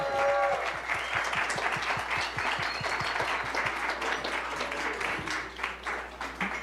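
An audience at a music cafe breaks into steady, full applause, dense clapping that stays loud throughout and tapers slightly at the end, with faint voices mixed underneath.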